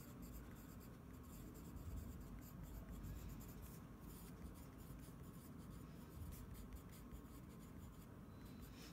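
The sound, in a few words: writing notes on notecards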